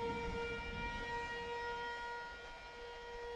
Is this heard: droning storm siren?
yes